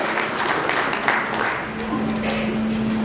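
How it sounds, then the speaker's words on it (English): An audience at an outdoor opening ceremony applauds, a dense, steady patter of many hands clapping throughout at moderate distance, with a faint sustained tone and crowd noise underneath. "Yeah, I hear some claps over there"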